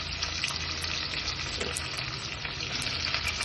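Curry leaves, onion and green chillies fry in hot oil with mustard seeds and cumin, making a steady, dense sizzle with small crackles and spits throughout, close and fairly loud.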